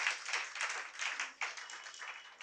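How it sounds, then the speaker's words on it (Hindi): Audience applause at a Hindi family satsang gathering, a short burst of many hands clapping together in a room, steady and moderately loud for a couple of seconds. "जिन्होंने ताली बजाई"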